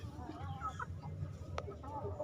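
Young hens in a breeding flock cluck in short, soft bursts at close range over low background noise.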